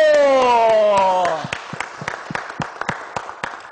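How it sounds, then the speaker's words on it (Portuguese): An audience applauds a doctor introduced as a speaker at an afternoon political event, with distinct claps ringing out irregularly after a voice on a loudspeaker finishes speaking. "Vamos aplaudir ele, doutor Daniel Nascimento!"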